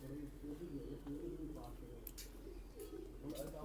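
Pet racing pigeons, a bonded pair, coo softly in a loft: low, rolling, repeated coos close by but quiet, with occasional faint rustles and clicks.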